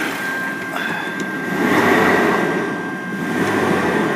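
Revving of a Jaguar car engine, restarted after a heat soak, gives a steady mechanical drone that swells in two broad surges, rising and then easing off, with no voices over it.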